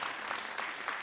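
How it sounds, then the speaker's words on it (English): A commencement crowd applauds its honorees, a dense, continuous wash of clapping from a large audience filling the whole brief moment. "Give them another round of applause."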